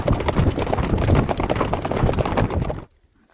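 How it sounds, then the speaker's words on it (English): Icelandic horses canter along a path, a dense rapid patter of hoofbeats with rushing wind, loud and close, stopping abruptly near the end. "Every so often, the path opened enough for a canter, or horses eager and full of energy as if they knew it was our last day riding with them."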